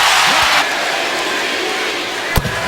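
An NBA arena crowd at a Houston Rockets vs. Atlanta Hawks game roars loudly for a moment, then settles into a lower rumbling murmur, with a sharp thud near the end.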